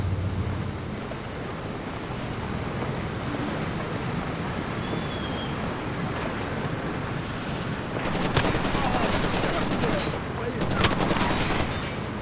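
Bursts of rapid gunfire in the video game Far Cry 2 ring out against a constant rumbling engine-like drone, the shooting growing denser and louder toward the end.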